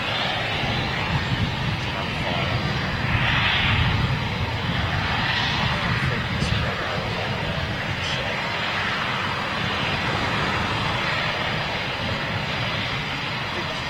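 Eurofighter Typhoon jet engines running on the ground at RAF Coningsby, a steady loud roar with a high whine and a rougher thrashing noise, continuous throughout and heard up close.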